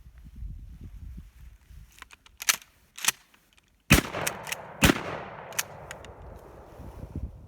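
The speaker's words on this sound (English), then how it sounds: "Let's fire a couple rounds off and then run a cleaning patch through it." A firearm loaded with birdshot fires downrange: a few sharp, loud reports, the strongest two about a second apart, each with a short fading tail over quiet background noise.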